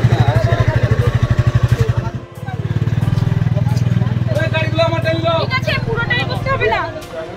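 A motorcycle engine idles and revs loudly up close as the bike is loaded onto a boat at Patubunia ghat, with a sharp change in engine tone midway and people talking over the chugging.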